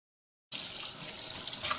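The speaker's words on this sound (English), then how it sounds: "Make sure to wash the rib, especially where the bones are." Tap water runs steadily while thinly sliced beef ribs are rinsed under it, a close, continuous splashing stream that starts abruptly after a short silence.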